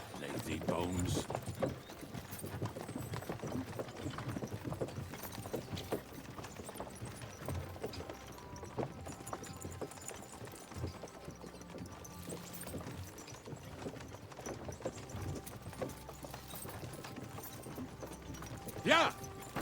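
Horse hooves clip-clop steadily in the medieval Bohemian game Kingdom Come: Deliverance II, with a rider's voice and game ambience over the rhythmic beat and a brief louder burst at the end.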